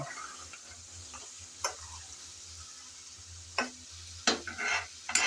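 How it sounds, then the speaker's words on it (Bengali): Boiled potatoes being stirred and fried in a pan for a fish-oil curry, with a faint low sizzle broken by a few sharp scrapes and clatters of the spoon, growing busier near the end. "এখন নেড়ে চেড়ে ভালো করে একটু ভেজে নিলে হয়ে যাবে"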